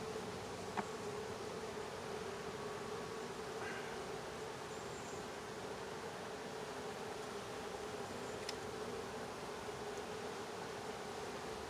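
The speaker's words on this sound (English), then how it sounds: "just a bunch of bees doing their thing without anything in there" Honey bees hum steadily inside a hive opened for a walk-away split inspection: a soft, continuous buzzing drone with occasional faint ticks, no voices.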